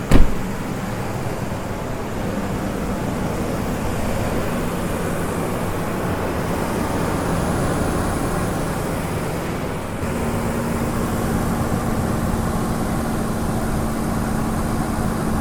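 Ford 5.4 3V engine running with its front accessory drive belt turning over new idlers and tensioner, a steady broadband whir with a constant low hum, no talk.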